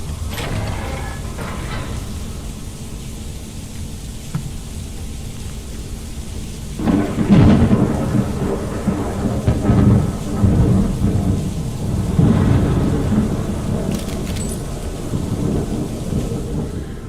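Rain and rolling thunder in the Fallout London video game, a steady wash of rainfall with low rumbles that swell louder midway and again later, with no talk.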